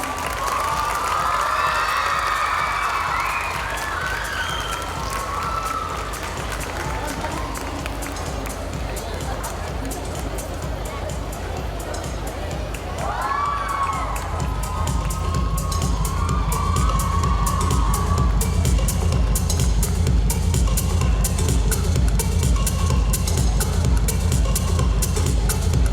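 A school annual day audience rising for a standing ovation: sustained crowd cheering and applause with shouts, continuous and growing louder toward the end, mixed with voices.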